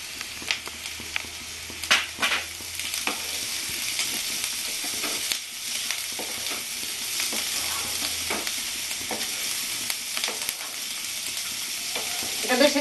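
Crushed garlic and chilies frying in a pan for a Bengali lote fish jhuri, a continuous close hiss and crackle with occasional scraping stirs, the sizzle holding steady and swelling slightly at the end.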